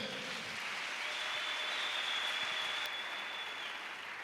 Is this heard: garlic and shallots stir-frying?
no